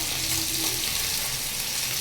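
Chapila fish frying on a banana leaf in a pan over low heat, a steady close sizzle and crackle with no pauses.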